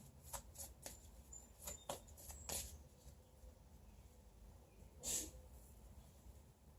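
A single sharp sneeze bursts out near the end, preceded by a few soft clicks and shuffling sounds in a quiet room.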